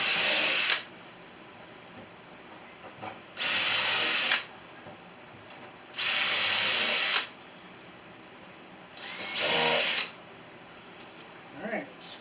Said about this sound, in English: I'm going to go through and pre-drill the rest of these holes on this one